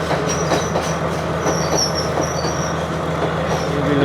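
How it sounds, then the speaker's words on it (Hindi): A local train rolls past at a railway crossing near a station in Sri Lanka, with a loud, continuous rumble of wheels, rhythmic clicking over the rail joints and high squeals throughout. "ये भी लोकल ट्रेन है"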